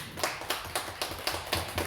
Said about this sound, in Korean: 우리 한번 박수로